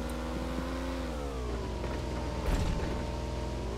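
A 4x4 off-road car engine in PUBG hums steadily with tonal whine, pitch dipping then climbing as it revs, with a brief bump of noise midway, moderately loud and continuous.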